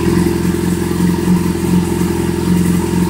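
A warm Yamaha FZ6 four-cylinder motorcycle engine runs close up at a fairly steady idle with a rhythmic mechanical clatter during carburetor synchronization, slight pulsing in the revs.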